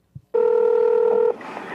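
Telephone keypad tones sound in a single long steady beep after a short click, followed by a faint line hiss, close and clear with no talking.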